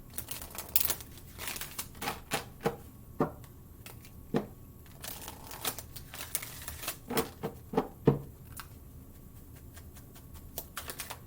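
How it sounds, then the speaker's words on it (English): A deck of cards is shuffled and handled in quick bursts of crisp riffles, flicks and soft slaps, coming close and fairly quiet with short pauses between bursts. "Shuffle up and deal."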